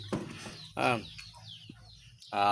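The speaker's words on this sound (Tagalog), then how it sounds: "ang ating mga alagang sisiw ay talagang malalakas po silang kumain" Pet chicks cluck and cheep in short, close calls separated by quiet gaps, against a low background hum.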